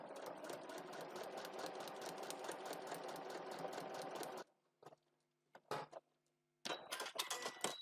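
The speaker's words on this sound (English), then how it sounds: "So I'm going to sew through the seam allowance along the line" A domestic sewing machine stitches a foundation paper pieced seam on a tiny heart block, running as a loud steady rapid whir for about four seconds, then stopping, followed by a few short bursts of stitching with quiet gaps between.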